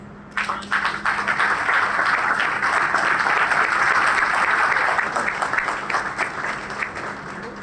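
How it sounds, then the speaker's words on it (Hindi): Audience applause at a Hindi-language business motivational seminar, a dense wash of many hands clapping that starts abruptly, holds steady and loud for several seconds, then thins slightly toward the end. "एक बार ताली बजाइए।"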